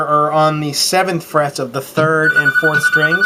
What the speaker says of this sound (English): Stupid phone. Sorry about that.